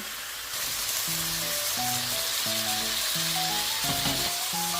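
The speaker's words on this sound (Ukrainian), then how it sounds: "Обсмажую стейки з двох сторін." Pork steaks fry in a pan with a loud, steady hiss and crackle close up, while gentle background music plays underneath.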